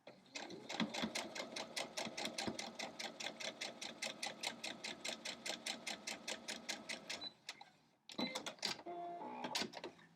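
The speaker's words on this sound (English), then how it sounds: "Sew down this line." A sewing machine stitches a quilt block with a fast, even run of rhythmic clacking for about seven seconds, then stops, followed by short bursts of stitching and handling noise.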